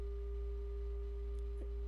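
A steady tone from a North Coast Synthesis MSK 007 Leapfrog filter sounds as its cutoff is turned down, a constant buzzy, triangular hum with a low drone beneath and a couple of faint brief clicks.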